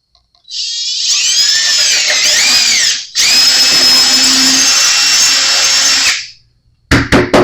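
Power drill boring into a Jazz Bass neck with a depth-taped bit, a loud steady high whine in two long bursts separated by a brief pause, then a few short clicks at the end.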